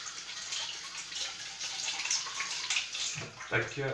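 Tap water runs steadily over a freshly peeled onion being rinsed in a kitchen. The splashing is close and continuous for a few seconds, with a brief clatter near the end.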